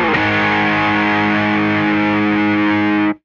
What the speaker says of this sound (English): you play a note and then you bring up the volume with your volume knob